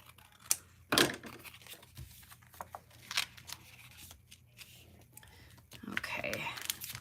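Paper cards being trimmed with scissors for scrapbook pockets, giving quiet scattered snips and rustles with soft handling sounds and a few louder cuts, close by and fairly faint.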